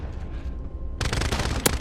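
A Renetti pistol in Call of Duty Modern Warfare fires a fast string of loud, closely spaced shots, a sudden dense volley that starts after a quieter moment of background game noise.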